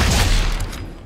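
A rapid burst of overlapping gunfire from the Fortnite video game, loud and dense, rattling for about a second before trailing off slightly.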